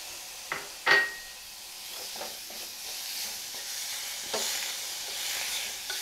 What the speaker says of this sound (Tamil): நம்ம கட் பண்ணி வச்சுருக்கூடிய தக்காளி இதில் சேர்த்து வதக்கிடலாம்